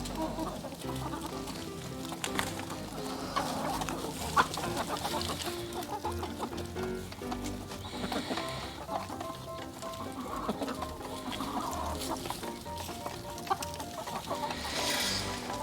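Chickens in a winter chicken yard cluck softly and steadily, with scattered clucks and coos at a moderate distance and no talking.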